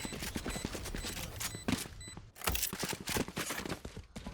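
Rapid bursts of gunfire in the video game Valorant during a college esports playoff match, dense clattering shots in quick succession with short gaps, fairly close and sharp.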